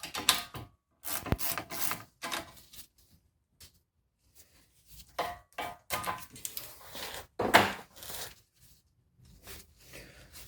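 A ratchet loosens a rear brake caliper slider bolt on a 2014–2018 Jeep Cherokee Trailhawk, giving several separate bursts of close, loud clicking and rasping with short quiet gaps between them.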